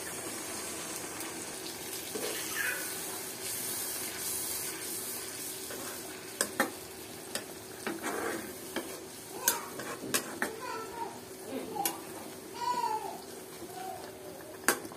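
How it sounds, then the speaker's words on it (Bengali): A soft, steady sizzle as water is added to a hot pan of chicken kofta, with intermittent scraping and clinking of a utensil stirring, fairly quiet and close. "এখন আমি একটু পানি দিয়ে দেব।"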